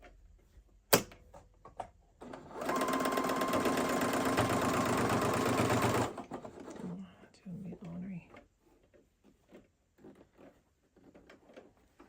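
A home sewing machine stitches through thick apron fabric with a steady, loud mechanical whir lasting about three and a half seconds, preceded by a sharp click and followed by quieter handling sounds and brief speech.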